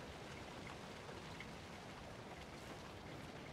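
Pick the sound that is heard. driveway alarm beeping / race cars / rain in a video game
rain in a video game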